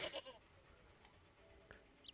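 A goat bleats in the Broken Sword: Shadow of the Templars Reforged video game, where it is tethered by a rope tangled on an old plowshare. The bleat is faint and brief over quiet game ambience.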